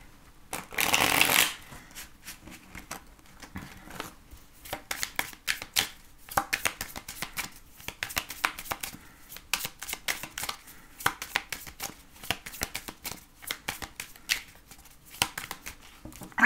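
Tarot cards being shuffled by hand in a long run of rapid crisp riffles and soft slaps, close and fairly loud, with a brief louder burst near the start and no talking.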